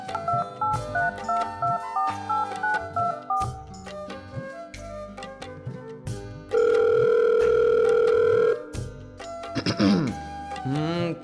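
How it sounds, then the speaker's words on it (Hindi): A telephone being dialed, with a run of keypad tones, then a long steady ringing tone and a burst of warbling line sound, close and clear with no talk over it. "नंबर मिलाया उसका, मिल गया सुगरा खाला का"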